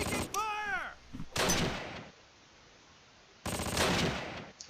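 Machine gun fire in the Close Combat: Last Stand Arnhem wartime strategy game: two loud bursts of rapid automatic shots with a quiet gap between them, and a whistling sweep before the first burst.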